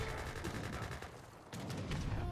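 Gunfire and heavy cannon fire crackle through an Age of Empires III battle as sharpshooters and heavy cannons clash, a dense continuous rattle of shots with a sharper burst partway through, heard at a moderate distance without voices.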